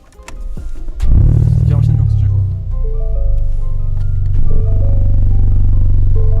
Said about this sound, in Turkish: egzoz sesini de arkadaşlar duyuyor şu an